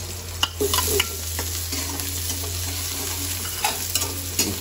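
Ginger, garlic and onion sauté in a pan for chicken sinigang, giving a loud, steady close-up sizzle with occasional clicks and scrapes as the pieces are stirred.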